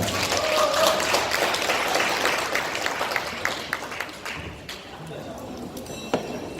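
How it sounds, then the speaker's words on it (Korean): An audience at a Rotary district training conference applauds a guest lecturer, steady clapping that thins out and fades toward the end, with some speech-like sounds mixed in. "다시 한번 큰 박수로 맞이해 주시기 바랍니다."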